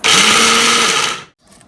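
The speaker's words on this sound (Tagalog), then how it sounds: "gagamit po tayo ng blender para mag-grind po siya" A kitchen blender grinds mung beans for ginataang munggo, a loud steady motor whir running about a second and a quarter before cutting off abruptly, followed by faint background noise.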